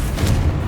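Confringo, the explosive fire spell, cast in Hogwarts Legacy: a brief, dense low boom with a rumbling burst, heard close and loud with no one talking.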